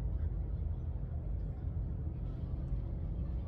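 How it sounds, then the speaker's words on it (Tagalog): Vehicles passing along a roadside, heard as a continuous low traffic rumble that stays fairly steady at moderate loudness, with no distinct single pass standing out. "ito naman sa kabila maririnig mo namang dumadaan ng mga sasakyan kasi nga guys nasa tabing kalsada lang ako."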